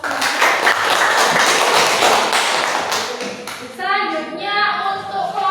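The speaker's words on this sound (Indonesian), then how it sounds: "berikan aplaus untuk Sandra" Classroom applause for a student after a poetry reading, a burst of many hands clapping and tapping, dense and fairly close, with a voice speaking as it tails off.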